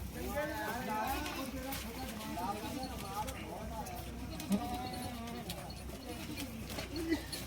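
Goats bleat repeatedly at a livestock market in Puhalla, Bathinda, their calls rising over a steady crowd murmur and nearby voices, with a couple of sharper cries standing out.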